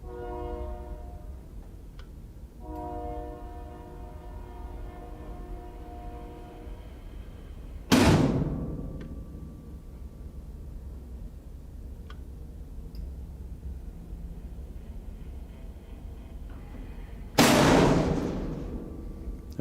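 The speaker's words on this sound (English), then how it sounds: "that's the operation of the GE SE series switch" A GE SE series load break switch is operated remotely, with two sharp, loud mechanical bangs about ten seconds apart over a quiet hum and a brief earlier tone.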